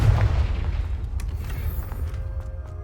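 A Confringo fire spell blasts in Hogwarts Legacy with a heavy, close boom at the outset. A deep rumble follows and slowly fades, with faint crackles scattered through it.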